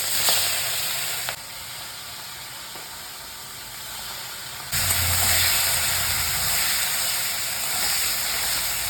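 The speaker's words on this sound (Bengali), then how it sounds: "এবার আমি এগুলো ভেজে নেব হালকা করে।" Salted, turmeric-rubbed prawns fry lightly in mustard oil, a continuous hissing sizzle that drops back for a few seconds, then swells louder again.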